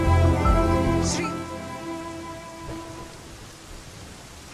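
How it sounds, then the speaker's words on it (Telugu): Steady rainfall hisses continuously, loudest at first and then easing to a softer, even wash, with a faint low rumble early on. "వర్షం తగ్గిన తర్వాత వెళ్ళు."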